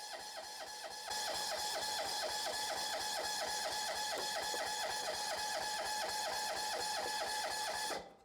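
A generator engine cranks over steadily on power from a 12V portable jump starter, a fast regular mechanical churning that runs loud and continuous for about seven seconds without catching, then stops.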